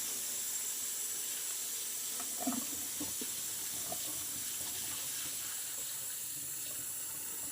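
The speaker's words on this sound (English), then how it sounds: "and rinse it on cold" A steady hiss of cold running tap water fills the clip, with a few faint soft clinks and shifts as rice is rinsed beneath it in a pan.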